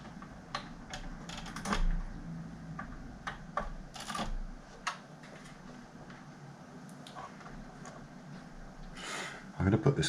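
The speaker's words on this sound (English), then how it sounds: "put the keyboard back in and test the keyboard." Keys tapped on a BBC Master 8-bit micro keyboard under test, irregular clicks and clacks close by with pauses, plus some handling noise near the end.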